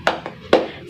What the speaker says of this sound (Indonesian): itu tadi kita sudah melakukan tepuk semangat